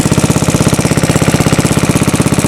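A 74-year-old Briggs and Stratton small engine runs on a dyno at wide-open throttle, loud and close, with a steady, rapid, even firing beat and no talk over it.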